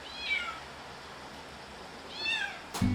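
Neutered street cats being released back onto Silido island after trap-neuter-return meow twice, close and clear, the two plaintive cries separated by a quiet pause before a sharp knock at the end.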